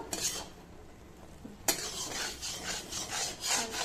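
Thickening jaggery and sugar is stirred in a pot over low heat, making soft, rhythmic scraping and rubbing strokes with a sharp knock of the spoon near the start, quiet and close, no voices.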